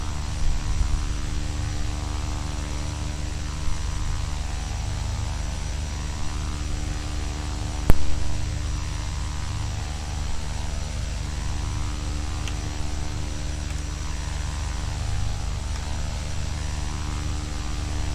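A Carenado B200 King Air turboprop taxis in the X-Plane 11 flight simulator, a steady, moderately quiet propeller and engine hum with a faint electrical drone, nearly unchanging throughout, with one brief click midway.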